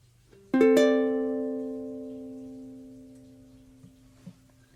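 A single plucked chord rings out on a ukulele in a fingerstyle arrangement, struck once and left to decay slowly over several seconds, with a couple of faint soft touches near the end.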